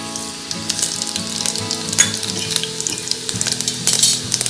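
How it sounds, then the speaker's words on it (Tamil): Mustard and fennel seeds crackle and sizzle in hot coconut oil in a home kitchen pan, with a dense frying hiss and scattered sharp pops. Occasional stirring clinks rise above it, and no one talks. "தேங்காய் எண்ணெய் காஞ்சிட்டு இப்போ கடுகு சோம்பு தாளிக்க போகிறோம்."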